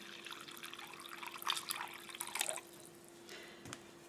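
Water trickles and drips into a bowl of flour for tortilla dough, soft close splashes in uneven bursts that fade, with faint background hum.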